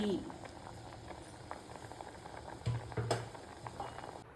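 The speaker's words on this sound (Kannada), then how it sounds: "ಒಳ್ಳೆ ಕುದಿ ಬಂತು" A pot of amla (gooseberry) rasam at a rolling boil, a steady bubbling patter with a few louder pops and clinks, close up, while a voice speaks briefly over it.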